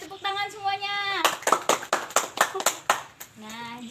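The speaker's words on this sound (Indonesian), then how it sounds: "Ya, tepuk tangan semuanya." A primary school class claps hands together in a few brief bursts of sharp, separate claps, with a teacher's voice talking before and after.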